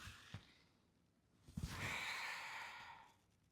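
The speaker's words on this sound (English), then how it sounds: "Breathe in for 4 and exhale." A slow breath is drawn in and then let out in a long, airy exhale during a mobility exercise, faint and close, with a couple of soft clicks and no speech.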